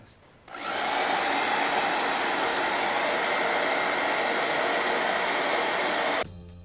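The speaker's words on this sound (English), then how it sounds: "we'll go get the hair dryer" A hair dryer runs steadily for nearly six seconds, heating wax on a covered humbucker guitar pickup, loud and close with an abrupt start and stop.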